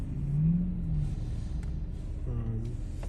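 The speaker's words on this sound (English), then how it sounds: "Lots of traffic through here right now." Road traffic on Colonial Drive through Orlando, cars rumbling and accelerating nearby in a continuous low roar, with a vehicle revving partway through and a voice speaking briefly underneath.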